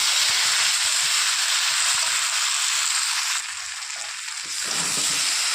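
Cumin powder and spices frying in a pan for a parshe fish chorchori, a steady close sizzle with a brief quieter dip before the hiss swells again, no voices.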